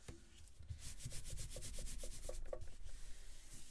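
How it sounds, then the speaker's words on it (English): Embossed paper rubbed firmly from the back to press it into glue, a fast, rhythmic series of close, dry rubbing strokes that continue steadily with no talking. "I'm going to turn this over and give it a little back rub."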